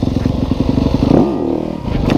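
A motorcycle engine revs hard and steady while the bike is lifted into a wheelie, its note dipping briefly as the rider eases off, loud and close throughout with no talking.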